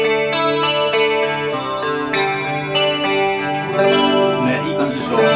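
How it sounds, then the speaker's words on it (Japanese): A 1983 Yamaha SA-2000S semi-hollow electric guitar is strummed and picked through reverb and chorus, giving loud, shimmering sustained chords with rich, swirling overtones and no talking. "このサウンドにしといて、リバーブとコーラスかけるとすごくほら"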